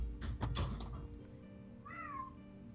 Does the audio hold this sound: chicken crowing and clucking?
no